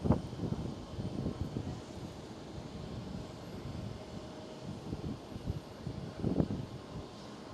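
An airliner takes off at Schiphol Airport in Amsterdam, its engine roar rumbling at a distance with gusts of wind buffeting the microphone throughout.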